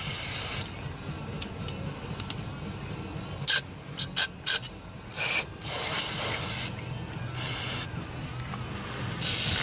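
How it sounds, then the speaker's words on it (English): Compressed air blows in several short, loud hissing bursts into a Tecumseh lawnmower carburetor during a rebuild, the jets sounding one after another over a steady background rumble. "Another one of my favorite tools, compressed air. Really get in all the little cracks and crevices with this."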